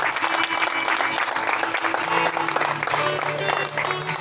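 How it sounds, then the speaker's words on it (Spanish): A church congregation at a Sunday service claps loudly and continuously, a dense steady applause filling the room, with faint singing or voices blended underneath. "Si es para el Señor, sean bien fuertes ese aplauso."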